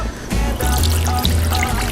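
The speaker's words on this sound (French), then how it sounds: "On commence avec le rhum épicé." Spiced rum is poured into a shrimp skewer marinade, about 150 ml in one close, continuous trickling stream.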